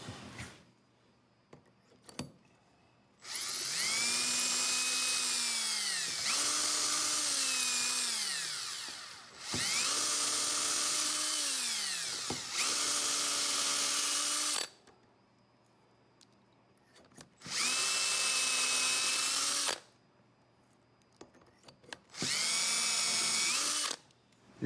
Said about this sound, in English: and drill a second hole